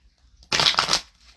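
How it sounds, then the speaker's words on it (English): A quick, crisp riffle of tarot cards being shuffled, one short burst under a second long against near silence. "Let me shuffle these cards too."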